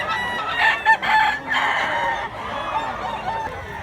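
Rooster crowing among fowl at a market, a few bright calls rising over a steady murmur of crowd noise and nearby chatter.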